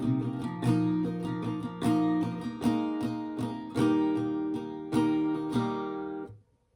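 Acoustic guitar slowly strums the first line of the chorus of a song, with evenly spaced chord strokes that ring out, close and alone, before fading to silence.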